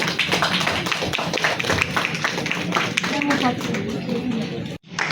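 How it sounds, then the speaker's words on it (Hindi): Clapping and tapping from an audience at an awards event, dense and continuous for several seconds, blended with a lively room and voices. "एक बार जोरदार तालियां हो जाए"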